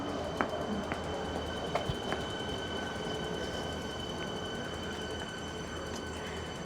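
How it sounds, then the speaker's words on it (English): A morning train passes near a bike path through Sunbury, a steady rumbling roar of rail cars with faint wheel clicks, continuous and fairly loud with no talking. "Here's the morning train."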